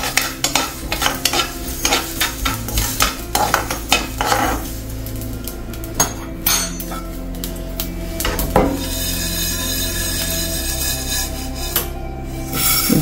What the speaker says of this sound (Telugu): జీలకర్ర వేగిపోతుంది.